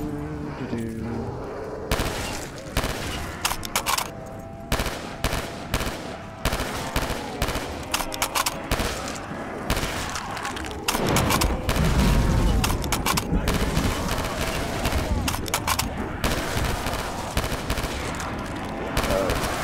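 Rapid gunfire from weapons in a Call of Duty custom zombies map set at a truck stop, with dense bursts of shots repeating steadily throughout, loud and close, with busy game effects layered beneath.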